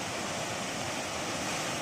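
Floodwater from a river swollen by heavy monsoon rain in Konkan rushes past in a continuous broad roar, steady and loud with no voices.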